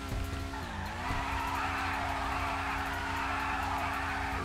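Car tires squeal in a long, loud, continuous burnout before a drag race in GTA 5, with a steady engine drone beneath and a brief dip in pitch early on.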